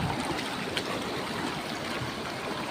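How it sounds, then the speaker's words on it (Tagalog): Strong, steady rush of clear river water at Puray Falls, a dense broadband roar holding even and loud throughout with no voices over it. "Kaso nga lang talaga malakas ang tubig."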